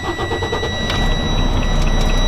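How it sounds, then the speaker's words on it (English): A big diesel truck engine turns over and catches, settling into a loud, steady rumble close by. "Now we're going to start the engine."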